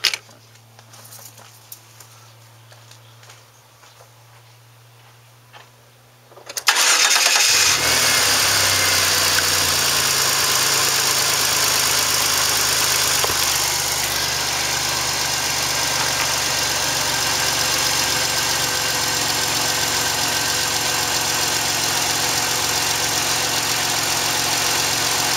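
A car engine cranks and starts, then idles steadily and loudly, fitted with a water vapor induction venturi pump hooked into the throttle body beside the brake booster; quiet room tone comes before the start.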